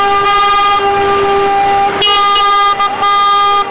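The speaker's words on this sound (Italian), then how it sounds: "Clacson al massimo quando sono passati davanti alla sede principale di Treviso di Veneto Banca" Loud, sustained car horns blare together nearby in a protest in Treviso, Italy, one long steady honk joined by several shorter blasts overlapping in a noisy chorus.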